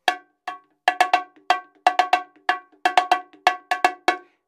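Bongo high drum struck near the edge for a bright, ringing edge tone, roughly fifteen sharp hits in an uneven rhythm with short decays, close and loud with no voice.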